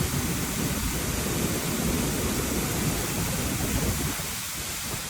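Loud waterfall in the Brecon Beacons heard from behind the falling water, a dense, steady roar that fills the whole clip without letting up.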